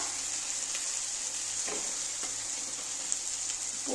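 Dried shrimp and snake gourd fry in a pan in Bengali home cooking, a faint, steady background sizzle with a few soft stirring taps, no voices.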